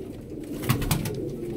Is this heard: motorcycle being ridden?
no